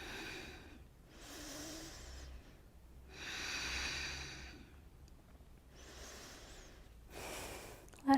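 Deep, slow yoga breaths during a full-body class, four long breathing cycles spaced a couple of seconds apart, each a steady airy rush, close and moderately loud, ending with a brief sharp exhale.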